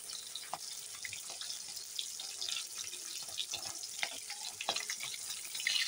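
Belly pieces of chital fish fry in a pan, giving a continuous crackling sizzle with small irregular pops, close and steady, with no voices.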